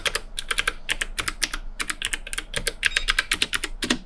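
Quick, crisp keystrokes on a mechanical keyboard with glassy-sounding switches, clicking in close, steady bursts of rapid typing with short pauses between runs, no voices.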